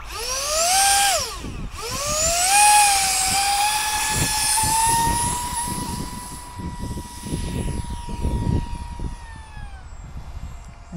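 An Eclipson Inferno model jet climbs at full throttle with a loud, close whine that dips, rises again, then holds steady and slowly fades as the aircraft moves away.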